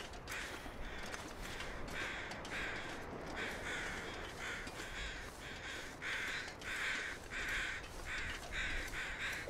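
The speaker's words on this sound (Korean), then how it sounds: "오늘도 까마귀는 개시끄러워요." Crows caw repeatedly in The Long Dark video game, a steady run of harsh calls at moderate distance over a constant windy outdoor ambience, with no voices.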